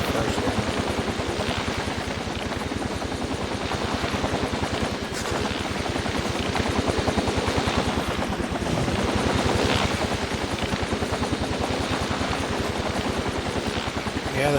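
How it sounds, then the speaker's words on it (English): Helicopter in the video game Infamous 2, a loud continuous rotor chop with a fast, even thudding beat that runs throughout, close and steady. "Yeah, there's a helicopter up there."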